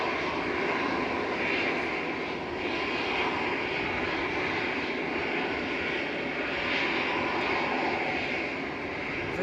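A steady, loud roar of Aer Lingus airliner engines at Manchester Airport fills the air on an overcast, very windy day, a continuous broadband rumble with slight swells and no talking.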